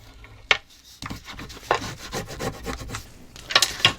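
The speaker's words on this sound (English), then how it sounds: "Now we're gonna burnish this side." Rubbing strokes burnish a wooden surface by hand, a series of close, dry scraping passes with brief pauses, one sharp knock near the start and a busier burst of rasping toward the end.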